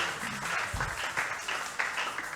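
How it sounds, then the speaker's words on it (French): A church congregation bursts into applause in praise of the Lord, a soft, steady wash of many hands clapping together at a modest distance, with no clear voices over it. "On applaudit pour le Seigneur."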